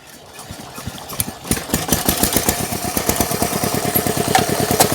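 A Chinese walk-behind tractor engine starts and settles into a loud, close, rapid chugging run with steady even firing pulses, no talk over it.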